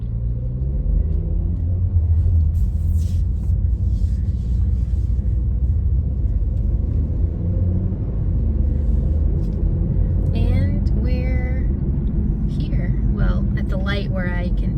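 Inside a moving car, a low rumbling road drone runs steadily throughout, close and constant, while someone talks over it almost the whole time.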